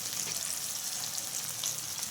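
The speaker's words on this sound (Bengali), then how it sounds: "কড়াইতে তেল গরম হয়ে গেছে, মাছগুলো অ্যাড করে দিচ্ছি" Small puti fish fry in hot oil in a wok, giving a dense, even sizzle that hisses close and steady for the whole short stretch without any voices.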